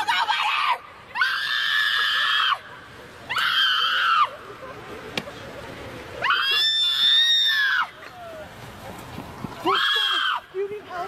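A female art student lets out repeated loud, piercing screeches in long bursts separated by short pauses, close and harsh, with quieter background noise between them.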